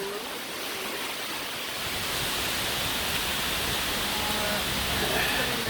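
Dunn's River Falls pours down toward the beach in a steady, loud rush of broadband water noise that holds from start to finish, with no break or pause.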